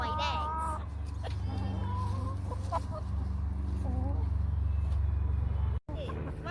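California white chickens cluck on a small farm, a few soft, uneven clucks and squawks over a steady low engine-like hum, with a person speaking nearby.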